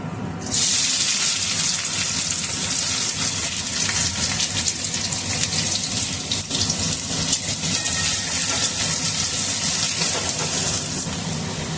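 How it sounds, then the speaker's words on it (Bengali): Chopped onions sizzle loudly and steadily in hot oil, a continuous crackling hiss with no voices. "পেঁয়াজটা আমি একটু ভেজে নেব"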